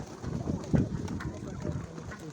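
Pigeons coo in a backyard loft, low murmuring calls rising and falling close by, with a louder burst near the middle amid general background bustle.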